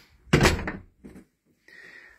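A side door of Lickleyhead Castle thuds open or shut with one loud clunk, then a softer knock of the latch, followed by a faint rustle in a quiet room.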